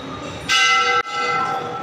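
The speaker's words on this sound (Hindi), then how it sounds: "ये देखो भाई घंटी बाबा जी, बहुत ही प्यारा मंदिर है" A Hindu temple bell rings loudly up close, two quick metallic strikes leaving bright, sustained ringing tones that linger and overlap, with no talking.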